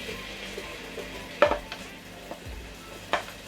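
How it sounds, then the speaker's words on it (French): Onions and vegetables frying in a pan of beef juices for a Thai-style beef stir-fry, a steady sizzle with a few sharp clanks of utensil against pan. "maintenant je vais faire revenir mes légumes en fait"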